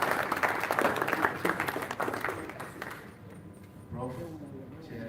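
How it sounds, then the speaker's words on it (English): A crowd at a health forum claps loudly, the applause fading out after a few seconds, then a voice begins speaking over the quieter room. "A massive round of applause"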